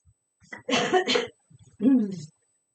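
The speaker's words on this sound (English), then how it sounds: "Sorry about my coughing there, guys." A couple of sharp, close coughs, then a short rough throat-clearing sound after a pause, in an otherwise quiet room.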